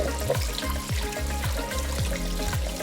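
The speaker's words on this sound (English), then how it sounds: "And we're just rinsing it off with cold water." Cold tap water runs over cooked white tapioca boba pearls being rinsed, a close, steady splashing stream with rhythmic low sloshing as the pearls are swirled in a strainer.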